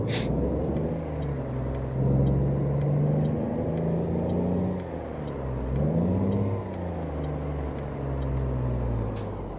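A modded custom Mack truck engine in a driving game revs and pulls at mid pitch, rising and falling through gear changes with a steady whirring drone, loud and close, without talk over it.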